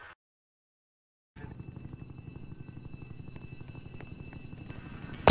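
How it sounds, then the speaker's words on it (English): After a second of silence, a video game helicopter's rhythmic rotor thumping starts up and continues steadily, growing slightly louder. "what happened to my helicopter sound effects?"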